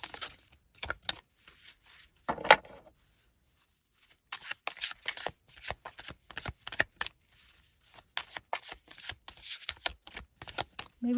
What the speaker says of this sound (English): Maybe I should shuffle before,